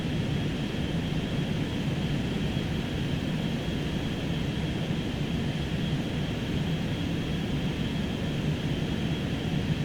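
Blackbird Simulations T-6A aircraft gliding in a flight simulator, a steady, even wash of wind and engine noise with no change in level throughout, no voices.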